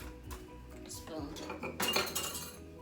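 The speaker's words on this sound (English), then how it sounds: "Spoon." Spoon clinking and scraping against dishes while making tangelo mango juice, a quick cluster of close metallic clinks over a few seconds.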